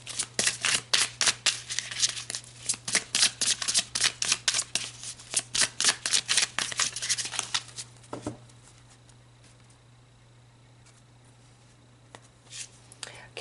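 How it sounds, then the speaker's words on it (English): Archangel Metatron oracle cards are shuffled close up in a rapid, rhythmic run of riffling slaps for about eight seconds, then quiet with a couple of soft card sounds at the end. "Let's pull some Archangel Metatron cards and see what else he would like to add"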